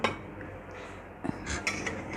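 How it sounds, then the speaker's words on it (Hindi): A spoon stirs cooked potato rice in a pot, with a few soft scrapes and light metallic clinks against the pot over a quiet background. "स्पून स्टर करते हैं।"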